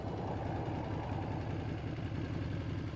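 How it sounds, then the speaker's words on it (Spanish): A chopper motorcycle engine idles steadily in a low, rumbling drone that sounds fairly distant and quiet and stays even throughout, with no voices. "Una moto chopera."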